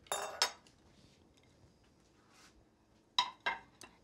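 Dishes and cutlery clink on a kitchen counter in a few short, bright knocks, one pair at the start and another cluster near the end, with quiet gaps between and no talking.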